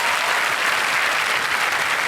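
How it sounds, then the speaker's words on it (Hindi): A studio audience on a TV quiz show claps loudly and continuously, a dense, even wash of applause that holds steady throughout without letting up. "अगर तालियां जोरों से जोर से बज जाए तो अच्छा लगेगा हमको"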